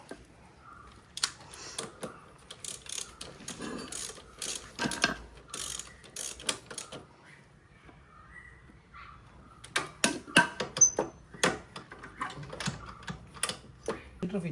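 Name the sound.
tightening Yamaha FZ kick starter bolt with 19 mm spanner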